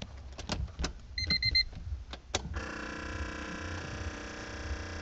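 Fuel pump priming in a car about to have its first start after cylinder head work: a steady electric whirring hum sets in partway through and holds evenly, preceded by clicks, a brief beeping chime and small handling knocks.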